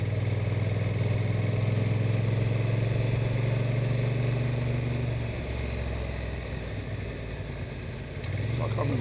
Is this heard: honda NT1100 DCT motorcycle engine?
yes